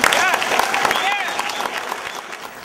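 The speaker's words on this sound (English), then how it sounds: "Give him a round of applause." An audience applauds with a burst of clapping that slowly fades, while a voice keeps talking over it.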